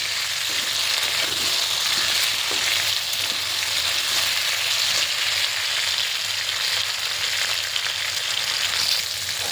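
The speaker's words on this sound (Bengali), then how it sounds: "আর দেখতে পাচ্ছ বন্ধুরা আমার কিন্তু ভাজা ভাজা হয়ে যাচ্ছে" Eggplant and potato pieces fry in a pan of oil, a loud, continuous close sizzle with faint scraping from stirring, steady throughout and without speech.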